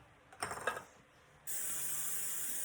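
A pump spritzer filled with olive oil gives a few quiet mechanical clicks as it is pumped up, then releases a steady hissing spray that runs on to the end.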